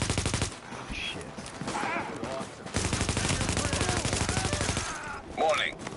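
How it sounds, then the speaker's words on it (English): Automatic gunfire rattles in rapid bursts during a firefight in the video game The Division, fairly loud and continuous, with game voices and a speaker talking over parts of it. "I'm in the middle of a firefight"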